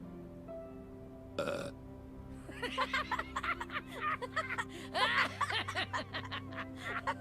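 Characters burp in The Walking Dead Telltale video game, one sharp close burp followed by a run of chuckling and snickering laughter.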